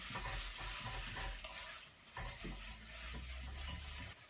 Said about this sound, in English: We're going to throw in 1 teaspoon of soft brown sugar on top of these. A good heaped one, and we're going to mix that into the onions.